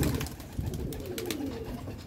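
Soft pigeon cooing, low throaty calls repeating over a steady outdoor background.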